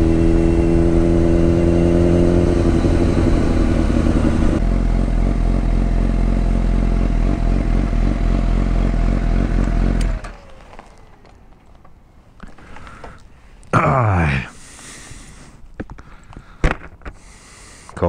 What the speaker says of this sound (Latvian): Foršs mocīts īstībā tas CBRs ir.